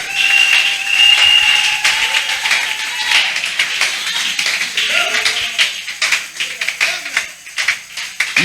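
A church congregation claps for the Lord Jesus in dense, steady rhythmic applause that fills the room and thins toward the end, with voices sounding faintly beneath it.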